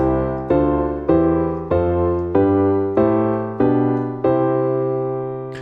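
Piano chords of a worship slash-chord progression ending G over B, then the 1 chord, are struck one after another at an even pace, each ringing briefly before the next.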